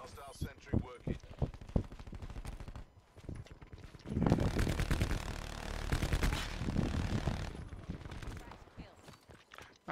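Rapid automatic gunfire from the Spitfire light machine gun in Apex Legends, heard as a loud sustained burst in the middle after scattered shots and game sounds, with a player talking over parts of it.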